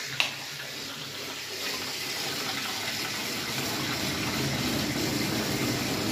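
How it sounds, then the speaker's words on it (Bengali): Water from a kitchen tap runs loudly and continuously, a steady close gush with no pause throughout. "কলটা একটু সরু কর,"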